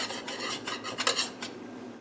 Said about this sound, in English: you can run a butter knife around the edges